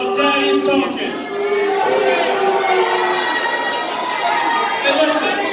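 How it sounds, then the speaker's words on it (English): Large wrestling event crowd roaring and booing steadily across the whole stretch, a dense, loud wall of many voices with shouts and chatter mixed in and no clear break. "you keep that booing up"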